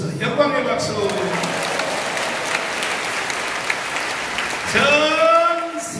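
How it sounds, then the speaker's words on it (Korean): Church congregation claps in sustained, lively applause, while a voice speaks over the start and again near the end. "우리 주님이 이루어줘서 영광의 박수"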